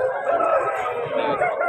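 A rooster crows in one loud, close, drawn-out call at a Vijayawada rooster market, with market noise low underneath.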